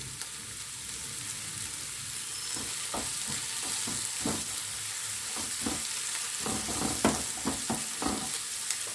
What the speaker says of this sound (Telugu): సో ఈ సమయంలో కరివేపాకు రెమ్మలు వేయండి.